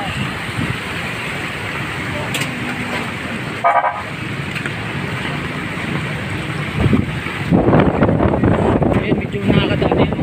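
Vehicles rumble steadily past on a wet road during Typhoon Ulysses, with broadband traffic noise and wind buffeting, growing louder toward the end as a car passes close.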